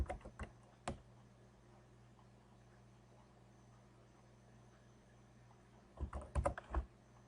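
Computer keyboard typing in a quiet room: a short burst of clicky keystrokes at the start, a pause with faint steady hum, then a second rapid cluster of key presses near the end, close and moderately loud, no talking.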